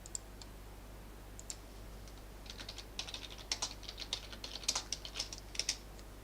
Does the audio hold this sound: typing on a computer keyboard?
yes